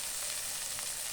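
Green chillies fry and get stirred in a hot pan, making a brief, loud, unbroken sizzle heard up close with no talking.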